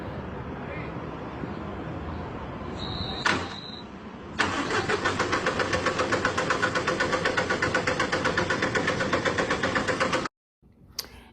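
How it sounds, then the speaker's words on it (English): A bus engine cranks with a rapid, even chugging for several seconds, preceded by a faint clunk and a brief high beep, then cuts off abruptly. "the bus driver's watching his bus try to start up on its own"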